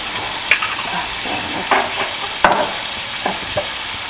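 Chicken stir-frying in a pan with soy sauce makes a constant close sizzle, with sharp scrapes and clatters of stirring every second or so.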